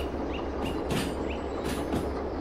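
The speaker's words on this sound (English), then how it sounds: "Those are good train noises." Engine rumble of a locomotive in a Thomas the Tank Engine train video game, a steady low drone with faint chuffing bursts and high whistling squeals repeating throughout, no voices.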